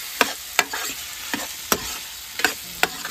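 Cucumber chutney mixed in a bowl while camping in an abandoned village near Jaisalmer, Rajasthan, irregular sharp clinks and scrapes of a utensil, close and fairly loud, over a faint steady hiss.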